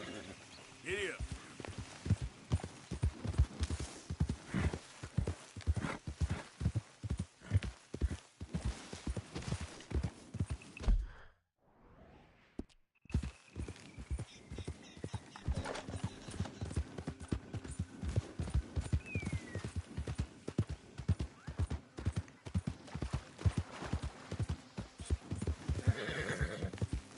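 Galloping horse in the Western video game Red Dead Redemption 2, a steady rapid clip-clop of hooves throughout with occasional neighs, briefly cut off midway before resuming, while a voice speaks over it.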